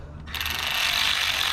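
A ratchet tightens the single center screw on a coil pack of a Mercedes ML320/ML430/ML500 engine, a rapid, close metallic clicking that starts abruptly and continues steadily.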